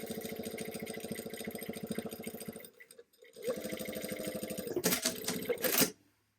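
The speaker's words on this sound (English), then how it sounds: "now I'm just going to go right back down it, top stitching it in place" A sewing machine top stitching the fly of chino pants runs in a steady rapid chatter, pauses briefly, then resumes and rises to a brief faster burst before stopping.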